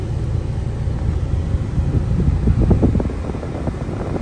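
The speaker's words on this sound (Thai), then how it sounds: "เทสแอร์ให้ดูแบบแรงสุด" Steady, strong rush of air from a Honda Civic three-door's air conditioner fan at maximum, a constant low whooshing roar with slight fluctuations.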